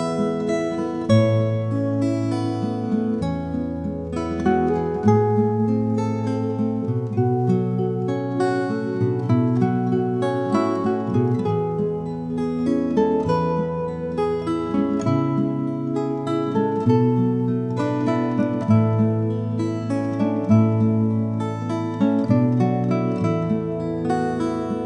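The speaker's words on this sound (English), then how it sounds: "a gentle acoustic guitar on a rainy day would sound like this" Gentle, AI-generated acoustic guitar music evoking a rainy day, softly plucked chords and melody flowing at an even, relaxed pace, steady in level and free of any voices.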